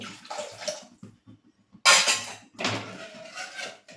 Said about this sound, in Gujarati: આપણું જેટલું મિશ્રણ હોય એનાથી 3 ગણું આપણે પાણી એડ કરવાનું છે.